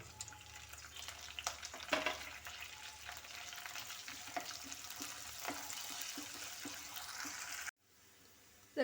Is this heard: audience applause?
no